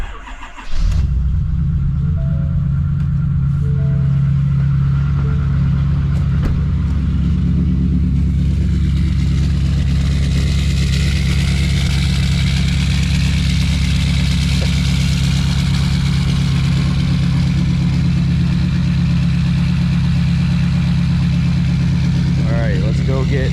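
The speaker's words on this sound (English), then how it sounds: "First cold start with a muffler delete." A car with its muffler deleted cold-starts in cold weather, catching with a loud roar and then settling into a steady, raw, rumbling idle that stays loud and close throughout.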